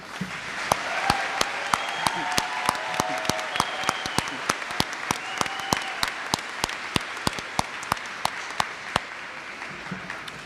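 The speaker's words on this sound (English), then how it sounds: "Let's give our graduates a huge round of applause." A graduation ceremony audience for the class of 2026 applauds the graduates. Dense, sustained clapping fills the room throughout, with sharper individual claps standing out near the microphone.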